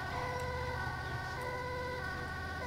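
Ambulance siren from the GTA 5 video game, a steady wailing electronic tone held throughout over a constant hum of traffic and engine noise.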